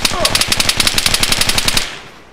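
Rapid automatic gunfire from a video game, a steady burst of about twenty evenly spaced shots lasting roughly two seconds before cutting off, with faint voices underneath.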